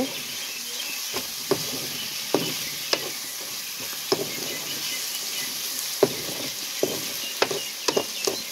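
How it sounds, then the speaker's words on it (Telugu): Bitter gourd curry frying in oil, a steady close sizzle punctuated by about a dozen sharp ladle taps and scrapes at irregular intervals, with no talking. "15 నిమిషాలు బాగా ఆయిల్లో వేగనివ్వండి."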